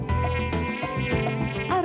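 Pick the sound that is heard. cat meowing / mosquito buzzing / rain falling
mosquito buzzing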